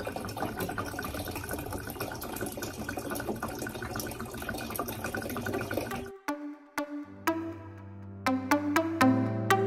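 Water pours steadily into a container for several seconds, then stops, followed by a few distinct drips and clinking taps.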